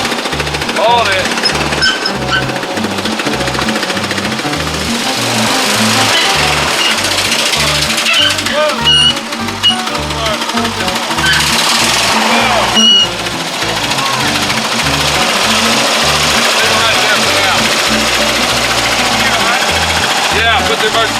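A Volkswagen Super Beetle engine idles roughly, giving a loud, uneven, rapid knocking putter that pulses close by for the whole stretch, with people talking over it.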